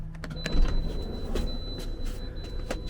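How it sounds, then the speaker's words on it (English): Electric sliding doors on a Mercedes-Benz Viamo motorhome run with a steady motor whirr and faint whine, with soft clicks and clunks of the door mechanism over the drive. "it does come with the electric sliding doors"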